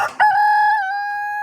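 A rooster crows one long, loud, clear cock-a-doodle-doo close by, the note held steady to the end with no talk over it.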